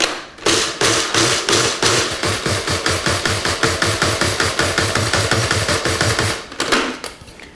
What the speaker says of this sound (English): Just grind them up into a really fine meal.